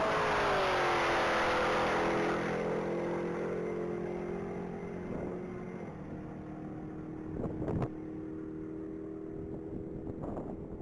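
A gray 2021 Dodge Durango Hellcat accelerating at the Texas Mile, a loud sustained engine roar with shifting tones that slowly fades as it pulls away, broken by a few sharp bursts.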